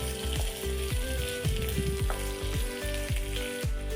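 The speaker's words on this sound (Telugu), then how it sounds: "ఇలా కలుపుకుంటూ వేయించుకోవాలి. ఆనియన్స్ అనేది బ్రౌన్ కలర్లో రావాలండి." Chopped onions sizzle steadily in hot oil for an egg curry gravy, with a spoon scraping and stirring through the pan in regular strokes, close and alone.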